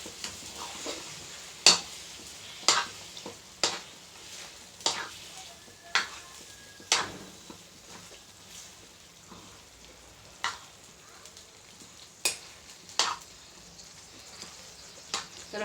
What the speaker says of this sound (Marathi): लोखंडाच्या कढईमध्ये तडका द्यायचा आहे